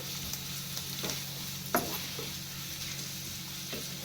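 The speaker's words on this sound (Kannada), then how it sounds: "ಸ್ವಲ್ಪ ಹಸಿ ವಾಸನೆ ಹೋಗೋವರೆಗೂ ಈ ಥರ ಎಣ್ಣೆ ಒಳಗನ ಕಾಯಿಡೋಣ್ರಿ" A tempering sizzles in hot oil with freshly grated coconut stirred through it: a quiet, constant frying hiss with a few soft scrapes and taps of the spoon against the pan, heard close and without any talk.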